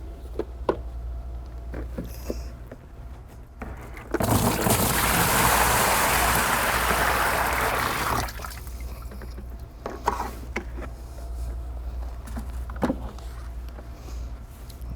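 Five gallons of water pour into a reservoir container in one loud, rushing burst lasting about four seconds, framed by quieter stretches of scattered clunks and handling noises before and after.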